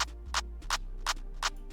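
A crisp drum clap sample hits five times at a steady, quick rhythm over a low hum, sharp and bright.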